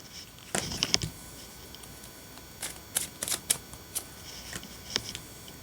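Tarot cards are shuffled and drawn in a quiet room. Crisp, close flicks and snaps come in short irregular clusters with faint pauses between them, and no one speaks.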